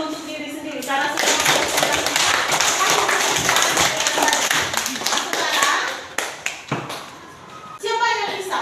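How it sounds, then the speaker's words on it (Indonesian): A classroom of children clapping for themselves after a lesson, a dense burst of hand claps over roughly five seconds with children's voices mixed in, tapering off before a teacher's voice resumes. "Tepuk tangan dulu untuk diri sendiri."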